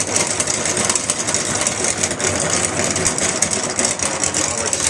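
Honey extractor spinning beehive frames in an urban beekeeping setup, a steady close mechanical whir and rumble that runs continuously without pause.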